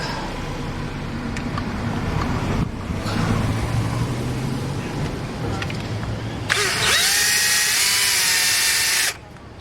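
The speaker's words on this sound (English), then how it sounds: "I'll get my drill and see what we can do. Alright, I've got a metal drill bit." Power drill fitted with a metal bit boring into a part of a 1997 Honda Civic engine, a loud sustained whine near the end after earlier lower mechanical running and workshop noise.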